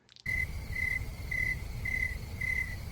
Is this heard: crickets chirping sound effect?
yes